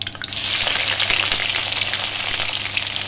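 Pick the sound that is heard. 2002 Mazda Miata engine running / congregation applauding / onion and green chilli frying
onion and green chilli frying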